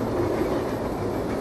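Steady rolling rumble and clatter of a metro train carriage on its rails, heard from inside the car, loud and continuous with no voices.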